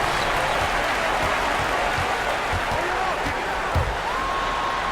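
Arena crowd at an NBA Lakers game roars and applauds steadily through a Russell Westbrook slam dunk, with a few dull thumps underneath and a commentator talking over the cheering.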